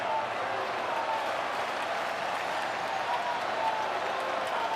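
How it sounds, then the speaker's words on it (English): A sellout stadium crowd at a Milwaukee baseball game roars and applauds on its feet. The sound is a dense, steady wash of cheering that holds at full volume the whole time. "Sellout crowd here in Milwaukee on their feet."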